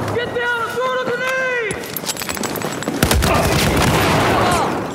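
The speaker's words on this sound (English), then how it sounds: "Get down and throw the grenade!" A grenade explosion and bursts of gunfire in Battlefield 4 follow a tonal in-game cue, rising into a loud, dense barrage of cracks and a booming blast in the final seconds.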